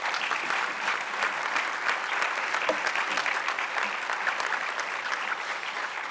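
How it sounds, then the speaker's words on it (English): An audience claps for an award winner in a health and fitness category at a ceremony, giving a dense, steady round of applause that holds at an even level throughout, with no one speaking. "Round of applause, please."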